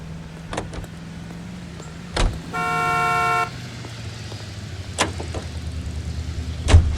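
Car in the L.A. Noire video game, with a low engine hum running throughout, a loud bright harmonic tone around the middle, and a few sharp thumps and clicks.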